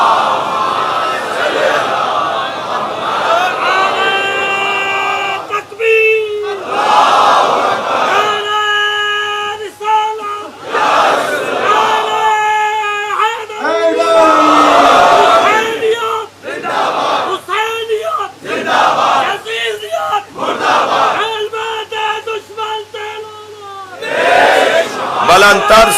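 A large crowd at a central Muharram majlis on the 9th of Muharram chants salawat loudly in unison, with repeated swelling collective shouts separated by brief pauses.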